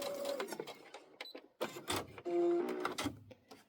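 A sewing machine stitches placemat seams in short, uneven bursts of whirring, with a brief tonal hum and clicks between runs, close and without speech.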